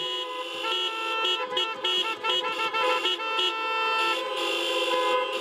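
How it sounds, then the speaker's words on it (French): Car horns honk together outside a church at the end of Mass, a loud, overlapping chorus of sustained and stuttering toots from several vehicles, with no one talking. "c'est un concert de klaxons qui plébiscite l'initiative"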